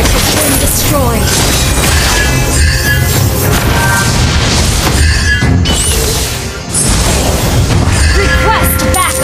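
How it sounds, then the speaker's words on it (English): A turret being destroyed in the mobile game Mobile Legends, heard as a dense, loud mix of booms, crashes and shattering impacts over constant battle effects, with game voice lines mixed in. "Our turret has been destroyed."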